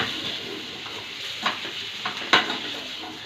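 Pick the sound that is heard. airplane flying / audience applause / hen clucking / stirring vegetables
stirring vegetables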